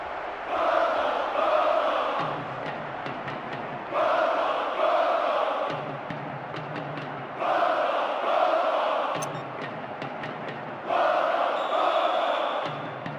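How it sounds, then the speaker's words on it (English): A stadium crowd in the football video game PES 2010 roars and applauds a goal in a Champions League match, rising in four loud swells of cheering with brief dips between them, and no voice over it. "the goal richly applauded by all corners of the stadium"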